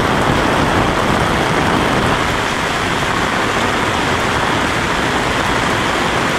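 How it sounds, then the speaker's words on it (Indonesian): Heavy morning rain pouring down outdoors, a loud, dense and steady hiss of downpour that continues unbroken. "Wah, hujan yang besar. Pagi-pagi udah hujan."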